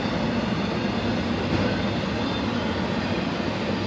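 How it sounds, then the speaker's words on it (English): A train rumbles steadily past at close range beside a campground near Bakersfield, California, a continuous loud, broad roar with no talk over it. "Train's pretty close here."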